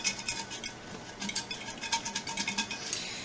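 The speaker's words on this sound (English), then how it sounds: "And then I'm going to shake up the jar." Paper tickets shaken inside a jar, a quick run of close, light rattling taps that picks up into a steady rhythmic shuffle, with no talking.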